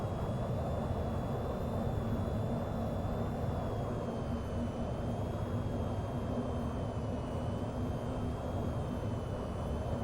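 Steady broadband engine roar of an aircraft in a VTOL flight video game, holding loud and constant for the full stretch with a faint high whine on top and no talking.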